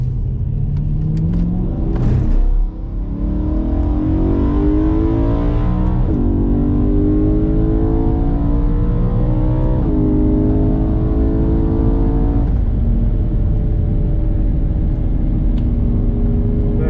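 BMW E92 M3 engine on a Nurburgring lap, loud and close, revving up through the gears with rising pitch sweeps and brief drops at each shift, continuous throughout.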